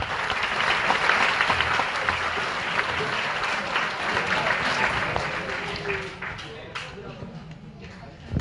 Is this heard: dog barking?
no